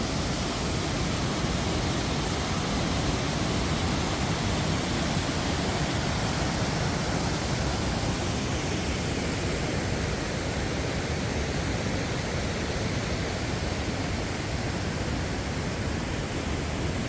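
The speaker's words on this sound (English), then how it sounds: "and then down here we got more waterfalls" Waterfalls at Old Stone Fort State Park roar in a steady, dense, unbroken rush of water, loud and close throughout with no voices.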